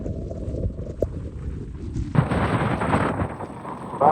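Heavy rain and gusting wind in flooded Sri Lanka streets roar steadily, swelling louder partway through into a dense, close wash of storm noise with no voices.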